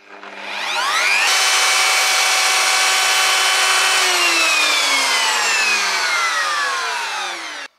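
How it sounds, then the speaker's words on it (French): A wood router spins up and cuts a decorative groove in a door panel, a loud, steady high-pitched whine that holds for several seconds, then slowly drops in pitch as the motor winds down, with no voices. "Donc je reprends maintenant ma fraise au départ, et on va voir ce que va donner ce premier trait."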